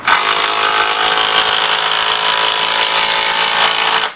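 A compact Makita impact drill driver runs in one continuous loud burst of about four seconds, a steady high-pitched whine close to the listener that stops abruptly, with no voices.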